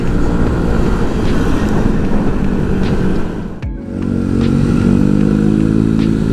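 Motorcycles ridden along the Soreang–Ciwidey main road near Bandung, a steady loud engine drone with a brief dip in the middle before the rumble builds again.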